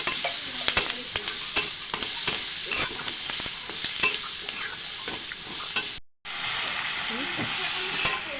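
Chicken momo gravy is stirred in a sizzling pan with red chili powder and black pepper powder, with repeated scraping strokes over a steady fry hiss and a brief drop to silence near the end before the sizzle returns.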